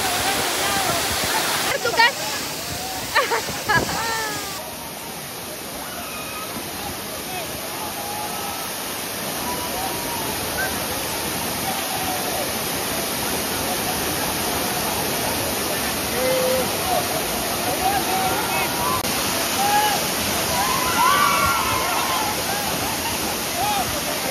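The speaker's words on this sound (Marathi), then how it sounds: "पहिल्यांदा मी एवढ्या मोठ्या धबधब्याला आलो असेल" A huge waterfall roars steadily on a crowded Sunday, a dense unbroken wash of falling water, with a few brief bumps and handling noises early on and faint crowd voices beneath.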